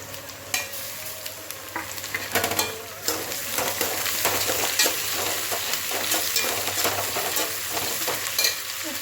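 Coriander and mint go into a pan of frying mutton biryani masala with tomato. A close, steady sizzle runs throughout, broken by scraping stirs and the clink of a spoon against the pan.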